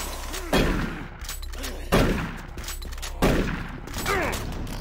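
Rapid bursts of chaingunner fire in Doom 3, three loud volleys of gunfire each followed by a decaying rumble, close and dominant with no talk.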